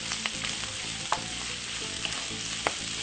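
Curly kale stir frying in a hot pan gives a steady, close sizzle, with a few sharp pops and crackles and soft stirring scrapes, with no talking.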